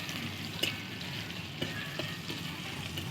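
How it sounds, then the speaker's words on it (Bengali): Garlic paste frying in a pan for a home-style mixed moong and masoor dal, a steady close sizzle with a few faint stirring clicks, no talk. "এবার দিয়ে দেবো রসুন বাটা রসুনটাকে লাল করে নিচ্ছি"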